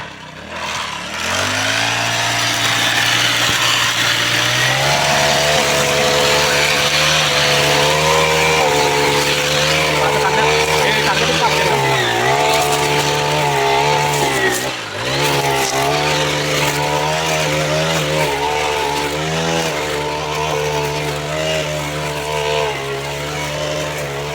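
A grass-cutting machine's engine drones loudly and continuously up close, its pitch rising and dipping slightly as it works.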